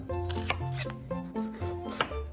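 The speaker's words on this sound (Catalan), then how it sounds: "Tallarem les cebes, més o menys anirem tallant totes les verdures a una mateixa eh, mida." A kitchen knife chops onions and other vegetables on a cutting board for samfaina, a few distinct close knocks in an uneven rhythm over a steady tonal hum.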